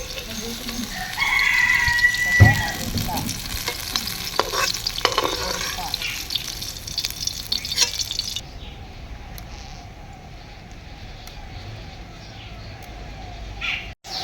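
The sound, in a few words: black mustard, cumin and curry leaves frying for tempering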